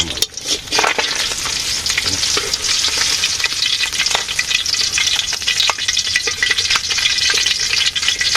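Potatoes frying in plenty of oil in a village kitchen, a steady loud sizzle with scraping stir strokes throughout, no voices over it.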